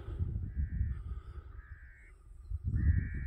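Crows cawing repeatedly at a wild camp in open countryside, a series of harsh calls at moderate distance over a steady outdoor background with no talk.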